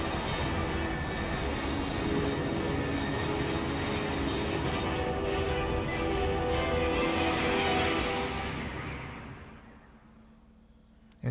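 A very fast aircraft roars past in the video game Metal Gear Solid Delta: Snake Eater, a loud sustained engine drone swelling and then fading away into quiet.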